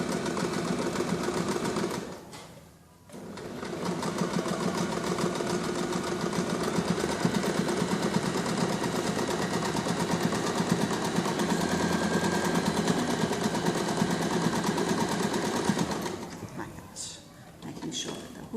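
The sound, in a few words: sewing machine stitching along a seam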